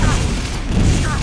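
Rocket explosions on a bridge in a competitive video game match, a dense rumbling boom with crackling debris that fills the moment at steady loudness.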